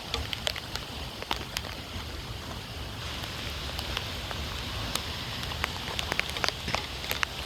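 Heavy rain pours steadily onto surfaces outside a home, a dense close hiss of drops with scattered sharper splashes and drips throughout, no voices.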